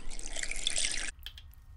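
A short pour of water into a blender jar holding tomatoes and raw garlic, a close, splashing trickle that runs about a second and then stops abruptly, leaving quiet.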